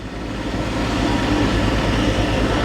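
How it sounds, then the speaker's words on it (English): A 1962 Dodge D300 truck engine idles with a steady, loud low rumble and rattle that holds continuously throughout, with no talking. "There it is. It's idling now."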